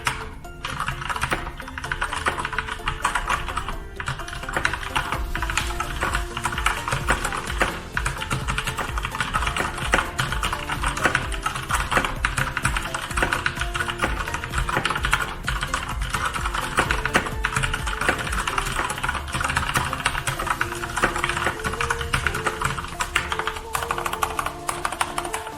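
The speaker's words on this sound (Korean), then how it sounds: "제가 키보드 ASMR 한번 들려드릴게요" Continuous rapid typing on an ASUS ROG red-switch mechanical keyboard with double-shot ABS keycaps, dense overlapping keystrokes with soft, light clacks, close up and without any talking.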